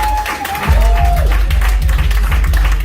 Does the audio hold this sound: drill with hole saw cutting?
no